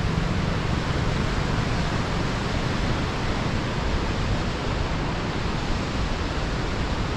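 Floodwater roars as it pours from the open gates of Bansagar Dam on the Narmada River, a loud, steady and unbroken rush that stays close and continuous throughout.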